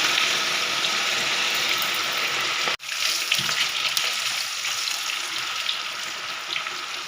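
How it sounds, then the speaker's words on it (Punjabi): French fries dropped into hot oil for a first half-fry, a steady loud sizzling hiss that cuts out briefly, then resumes with bubbling crackle, no talking. "ਇਧਰ ਆਇਲ ਗਰਮ ਹੋ ਚੁੱਕਿਆ ਤਾਂ ਹੁਣ ਆਪਾਂ ਇਹਦੇ ਵਿੱਚ ਫ੍ਰੈਂਚ ਫ੍ਰਾਈਜ਼ ਪਾਵਾਂਗੇ ਫਰਾਈ ਕਰਾਂਗੇ ਇਹਨਾਂ ਨੂੰ"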